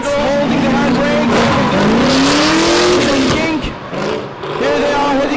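V8 drift cars roar past at the Yas Marina drift event, engines held at high revs with tires squealing, loud and continuous, while a commentator talks over the action.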